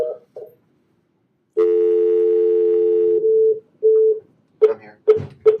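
A steady telephone dial tone holds loud and close, then breaks into short DTMF keypad beeps as a number is dialed, followed by brief ringing pulses and a few snatches of nearby voice.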